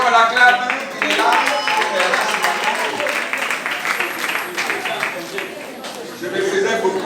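A church congregation applauds and cheers a returned son, with steady clapping and crowd noise throughout and voices mixed in over it.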